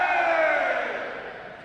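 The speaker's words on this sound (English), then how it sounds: "right behind the camera there is a huge crowd of people absolutely buzzing to get in" A huge, excited crowd waits outside the Gamescom entrance, its dense murmur and scattered shouts forming a steady, close roar that fades slightly toward the end.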